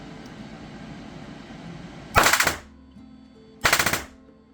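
An airsoft gun fitted with an inline mosfet fires two short full-auto bursts of rapid clicking shots, close and loud, separated by a brief pause over a quiet background hum.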